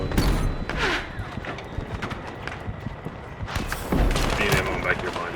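A light machine gun fires in a Battlefield 6 match, with rapid, dense bursts over continuous battlefield noise as voices talk through it.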